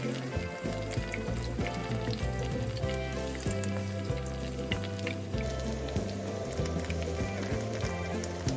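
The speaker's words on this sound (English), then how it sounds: "Fry the scallions until golden, then take them out." Shredded scallions sizzle in hot oil in a pan alongside star anise and ginger slices, a steady close crackling fry under louder background music.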